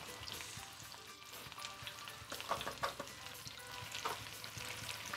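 Onions, thyme, bay leaf and garlic fry in melted butter with a steady, close sizzle, broken by several brief stirring scrapes and clatters toward the middle and end.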